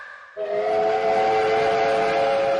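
A cartoon train whistle for a human railroad set gadget bursts in after a short quiet moment and then holds a loud, steady tone with rumbling underneath.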